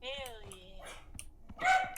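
A dog barks in short bursts near the start and again near the end, loud and close, while a person speaks over it casually indoors.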